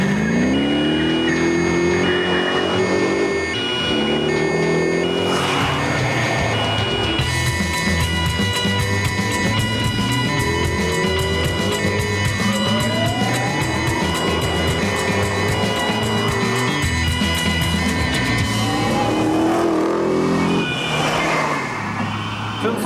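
A supercharged car revs hard with its rear wheels spinning, engine roar sustained and loud for the whole stretch, rising and falling in pitch, with music-like tonal layers mixed in.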